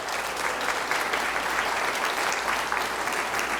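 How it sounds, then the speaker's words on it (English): An audience applauds election candidates for mayor and council in St. Stephen, with sustained, even clapping filling the whole stretch at close range. "A big round of applause for everyone."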